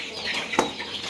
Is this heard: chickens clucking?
yes